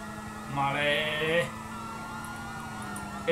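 Police car sirens wail in a video game chase, a loud rising whoop followed by steady cycling siren sweeps that continue under someone talking.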